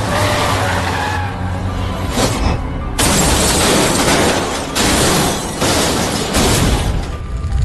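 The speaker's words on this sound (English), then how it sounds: "Now the truck was overturned" An armored truck crashing and rolling over in a movie scene, loud sustained scraping and grinding with heavy impacts and broadband bursts, close and dense with no pauses.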